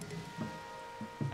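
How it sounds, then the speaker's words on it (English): Steady rain hiss falling in the video game Zelda: Tears of the Kingdom, a continuous soft wash broken by brief low thuds. "oh, it's raining"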